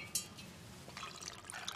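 Italian bitter liqueur is poured into a cocktail mixing glass for a Negroni, a short, soft, steady trickle of liquid heard close up.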